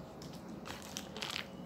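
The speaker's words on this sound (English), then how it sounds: "Yeah, the rice crunchy." Crisp, close crunching of Nepalese beaten rice (chiura) being bitten and chewed as a snack, with several sharp crackling bursts in quick succession and no talking.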